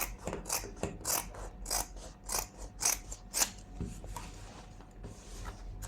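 Scissors snip through fabric material for a stitching project, a steady run of close, crisp cutting strokes in rhythmic bursts with no talk.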